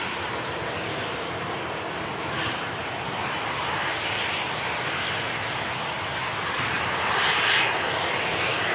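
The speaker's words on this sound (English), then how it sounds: "Two aircraft now crossing the runway." A loud, steady engine roar from aircraft crossing the runway at Manchester Airport, swelling slightly toward the end, with no voices.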